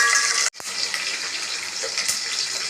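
Cumin, mustard seeds, green chilli pieces and peanuts frying in hot oil in a pan, a loud, steady sizzle that cuts out for an instant and then resumes evenly.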